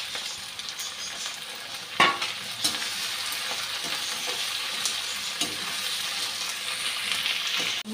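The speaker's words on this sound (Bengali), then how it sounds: "পেঁয়াজটা কিছু ভাজা হয়ে যাওয়ার পর টমেটোটা দিয়ে দিলাম।" Onion with green chilli and tomato fry in a pan for a Bengali tengra fish curry, a steady close sizzle running throughout with a few sharp stirring clinks near the start.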